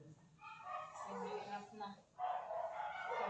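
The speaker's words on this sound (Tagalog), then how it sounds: "nag-ingay-ingay na naman ang aming mga aso dyan sa labas" Household dogs bark and yip outside a home, moderately loud under ongoing talk in Filipino, with the barking mixed through the speech.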